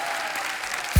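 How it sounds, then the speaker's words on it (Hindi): Studio audience on a TV comedy talk show applauding the guests, a short, steady wash of clapping with a low thump at the very end. "एक बार जोरदार तालियां हमारे मेहमानों के लिए"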